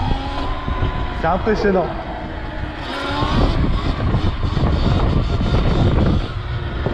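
An electric motocross bike with doubled power whines up under full throttle, its high motor pitch rising and sweeping over rough outdoor noise, while someone speaks over it.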